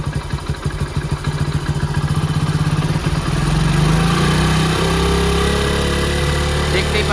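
A motorcycle engine runs close by, first chugging in a rapid, uneven pulse, then revving up into a louder, smoother sustained drone.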